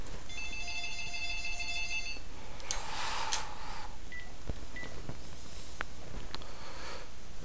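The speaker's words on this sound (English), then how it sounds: "Phone rings." A telephone ringing in an indoor room, with a steady electronic trill in a short burst followed by a few fainter clicks and tones against a constant hiss, no voices.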